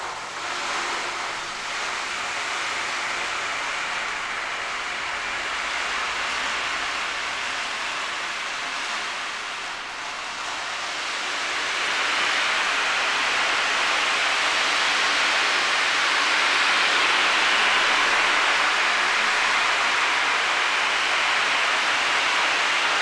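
Ocean theta drum played with a steady, continuous rolling wash like surf, swelling louder partway through and holding a dense hiss without pauses.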